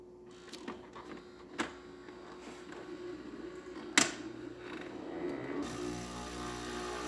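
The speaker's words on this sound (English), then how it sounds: "it's going to do the automatic rinsing cycle" A Gaggia Accademia espresso machine, just fitted with a new water pump, running its automatic rinsing cycle: faint mechanical whirring with a few sharp clicks, then a steadier pump hum near the end.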